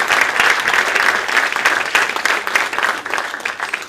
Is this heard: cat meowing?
no